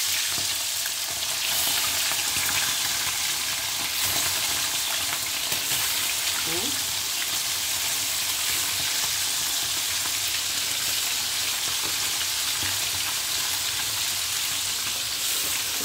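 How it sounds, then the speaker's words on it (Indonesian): Steady, even sizzle of chicken frying in hot oil, continuous and close throughout, with no talking. "Saya mau masukin ayamnya dulu ya, ini ada udah panas apinya,"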